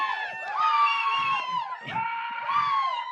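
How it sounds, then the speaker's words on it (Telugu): A crowd at a village film event cheers and whoops for Anil, a new movie hero, with loud, sustained shouting and yelling that swells and dips across the whole stretch; distinct clapping is hard to pick out. "ఏ అప్పటి నుంచి గట్టిగా క్లాప్స్ కొట్టి అరవరేంది మన అనిల్కి."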